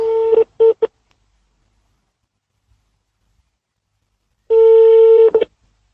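Telephone dialing tones on a phone line: a few short beeps in quick succession, a long silence, then a longer tone burst with a brief tail, loud and close.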